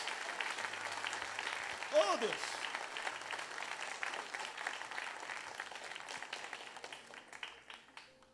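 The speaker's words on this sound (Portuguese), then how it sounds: "Aplauda Ele hoje à noite." A church congregation applauds in a sustained wash of clapping that fades gradually, while a preacher speaks over it.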